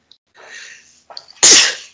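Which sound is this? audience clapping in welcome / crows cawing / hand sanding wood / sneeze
sneeze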